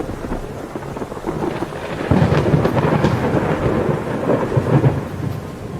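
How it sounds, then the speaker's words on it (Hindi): Steady heavy rain pours down while low thunder rumbles through, swelling louder partway and rolling on continuously. "ये तुम्हारी पहली बारिश है।"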